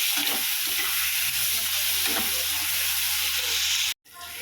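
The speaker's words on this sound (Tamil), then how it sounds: "தக்காளி சேர்த்து நல்லா தக்காளி மசிக்கிற அளவுக்கு நம்ம கிண்டி விட்டுக்கணும்." Tomatoes frying in a clay pot for dried-fish curry hiss with a loud, continuous sizzle and occasional stirring scrapes, close by, before cutting off abruptly near the end.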